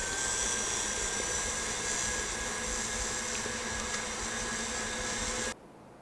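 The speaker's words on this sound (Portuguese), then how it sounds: "Agora a gente vai ligar essa batedeira em velocidade máxima e vai acrescentar aos poucos a manteiga." A stand mixer whirs at maximum speed with a steady, loud high-pitched drone, alone, then cuts off abruptly near the end.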